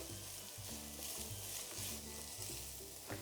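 Crushed dried chilies sizzle and fry in a pan in a soup pot base, a constant close crackling hiss with faint stirring knocks underneath.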